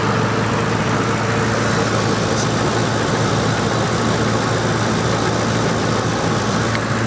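A car engine idles beneath a loud, constant whoosh from its running radiator fan, heard close up under the hood with no voices.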